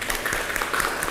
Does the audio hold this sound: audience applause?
yes